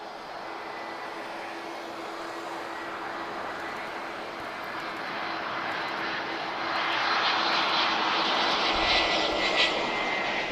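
An LR airliner departing Lisbon Airport, a steady jet engine roar that builds gradually and grows louder toward the end, heard from a distance outdoors.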